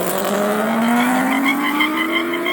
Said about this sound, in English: you start to hear the tires chatter after a little bit